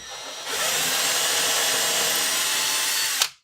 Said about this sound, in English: then I'm going to drill these 2